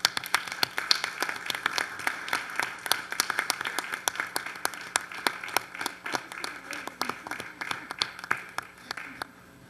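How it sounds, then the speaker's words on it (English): A room full of people applauds scouts at an evening community ceremony, a moderate, steady patter of many individual hand claps continuing without a break. "Let's give them all a round of applause."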